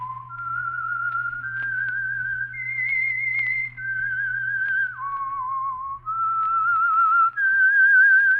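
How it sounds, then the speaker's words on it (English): A lone whistled melody, the theme signal of the old radio drama The Whistler sponsored by Signal Oil, rises and falls through sustained clear tones over a low steady hum, clean and close. "That whistle is your signal for the Signal Oil Program, The Whistler."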